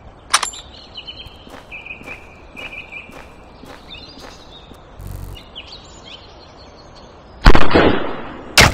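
Sniper rifle shots in a dinosaur hunting shooter game, a few sharp cracks spaced across the scene, one loud close blast near the end, over faint ambient birdsong.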